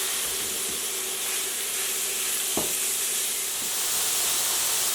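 Pork pieces sautéing in a hot pan, a loud continuous sizzle with a few brief clacks of stirring, close and steady with no talking.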